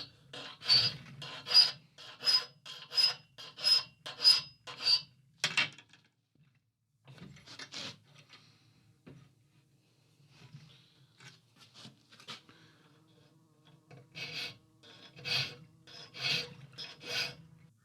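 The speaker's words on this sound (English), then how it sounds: "I can come in with a file and carefully get it back so it's a nice square" A metal file squares the shoulder of a forged tenon on an iron mast fitting, with rhythmic rasping strokes in a quick run, a pause with a few scattered scrapes, then another burst of strokes, close and fairly quiet.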